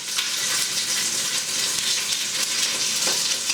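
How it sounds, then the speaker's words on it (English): Chicken drumettes browning in olive oil in a pot, giving a steady, loud, dense sizzle of frying that holds evenly throughout, with small crackles but no voices. "I'm browning off my little drumettes"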